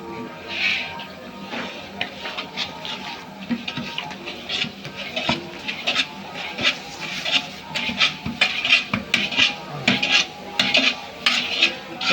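Semolina roasting in flaxseed oil in a pan, with a metal spoon scraping and clinking against the pan in an irregular, fairly close rhythm and a soft sizzle underneath.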